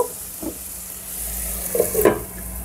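Tomatoes for tomato upma softening in a covered pan, a low steady sizzle and simmer with a few soft scraping stirs and a clink of the lid or spoon near the end.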